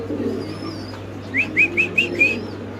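Fancy pigeons at a pigeon farm, a low hum under a quick run of five bright chirping calls close by, with a faint whistle earlier.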